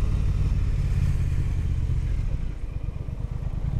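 A Triumph Thruxton R motorcycle engine runs loud and close in a steady drone, then drops into a choppier, pulsing idle-like throb near the end.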